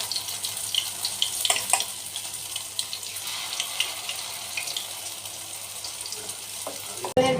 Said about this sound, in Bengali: বিউলির ডালের বড়াগুলো আমি এক এক করে ভেজে নিচ্ছি।